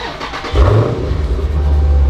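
A 2016 Dodge Challenger 392 Scat Pack with its mid muffler deleted fires up, a sharp loud start flaring after half a second and settling into a deep, rumbling idle close by.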